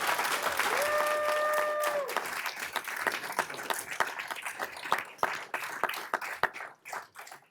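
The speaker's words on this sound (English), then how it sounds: "give a round of applause to all of our immigrants and refugees" Audience applause at a city council meeting in Elk Grove, a crowd clapping steadily at moderate volume and thinning out into scattered claps toward the end, with a brief tone heard early on.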